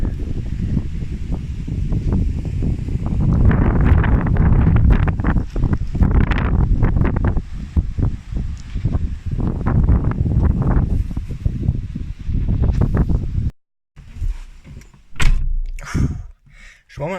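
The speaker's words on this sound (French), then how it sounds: "il y a un putain de vent dehors" Strong wind buffeting a Volkswagen Golf Mk2, heard from inside the car as a steady low roar with gusting surges and occasional thumps, dropping out briefly near the end before returning in bursts.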